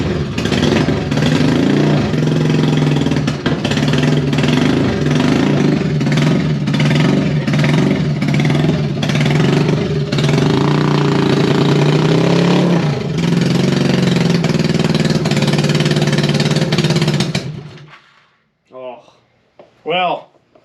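A 1975 Honda Goldwing motorcycle engine, left sitting for 41 years, runs loud and close with a rough, uneven rhythm and repeated revs for about seventeen seconds, then cuts out. A few brief voices follow in the near-silence.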